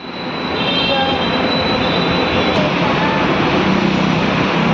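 A metro train rumbles loudly and steadily close by at Jayaprakash Nagar metro station, with a thin metallic wheel squeal running through the noise.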